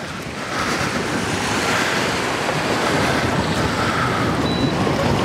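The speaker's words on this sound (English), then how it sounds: "Take care, big waves coming, big waves." Big sea waves wash and crash around a fishing boat on a pike lure-fishing trip, a loud, continuous rushing surge with heavy wind buffeting the microphone.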